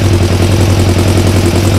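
The engine of a 1996 Kawasaki ER5 motorcycle during carburetor synchronization, a loud, steady, close mechanical drone with an even pulsing hum and no pauses.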